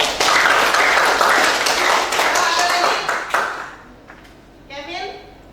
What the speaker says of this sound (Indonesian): Oke, boleh kasih tepuk tangan